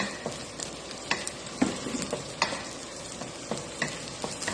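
About half a tablespoon of chopped ginger sizzles and crackles in a hot frying pan, with scattered sharp stirring clinks over a steady bed of frying noise. No one speaks.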